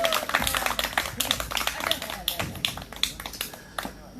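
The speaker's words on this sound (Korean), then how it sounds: "우리 그분한테도 큰 박수 한번 부탁드리겠습니다." Applause from a small crowd at an outdoor candlelight gathering, heard as crisp, close, uneven hand claps that thin out over a few seconds.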